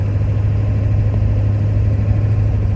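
A car engine idles with a steady low rumble and vibration as the automatic transmission is shifted from park into reverse, close and continuous with no talk.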